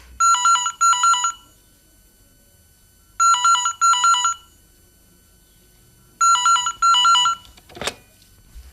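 A telephone rings in a radio drama, sounding in three separate bursts of double trills with quiet gaps between them, loud and close, and no one speaks.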